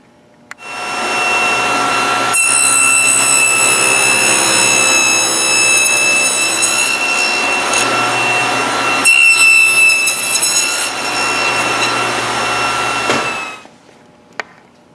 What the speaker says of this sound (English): I'm going to go cut all the other ones.